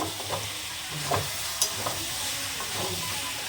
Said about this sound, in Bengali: পাঁচ দশ মিনিটের মতো একটুখানি কষিয়ে নিচ্ছি